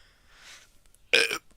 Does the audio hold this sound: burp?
yes